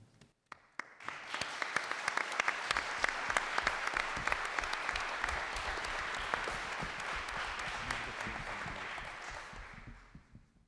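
An audience at a gubernatorial debate forum breaks into applause, a few scattered claps swelling quickly into sustained, even clapping that carries on for several seconds and then dies away.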